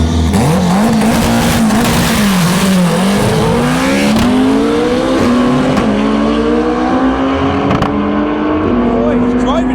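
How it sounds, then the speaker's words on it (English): A drag racing car does a burnout at Santa Pod Raceway during a private test day, its engine roaring loud and sustained with shifting revs, while people talk over it nearby. "That's a burnout."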